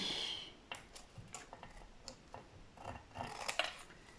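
Scissors snip through paper while a spring greeting card is trimmed, producing a close, quiet run of short crisp cuts and rustles in an uneven rhythm.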